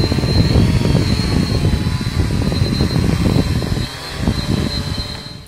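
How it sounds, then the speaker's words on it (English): A small camera drone flies outdoors in the dark, its rotors giving a loud, steady buzzing whine with a thin high tone on top. The sound holds close, then dips briefly before returning. "So we have the drone out in the dark."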